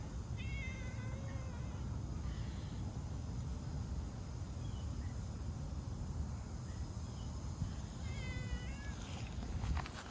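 A cat meows faintly a couple of times, far off, over a steady hiss of outdoor background noise.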